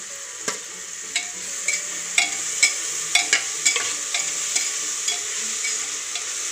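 Chopped tomato sautéed and stirred in a hot pan for masala rice: a steady bright sizzle runs throughout, punctuated by repeated sharp spatula scrapes and clinks at an irregular rhythm, close and fairly loud, with no talking.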